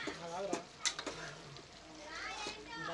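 Chopped tomatoes are stirred into a frying boti curry. The sizzle is soft and faint, broken by a few sharp spoon scrapes, and a voice and children's chatter sound faintly in the background.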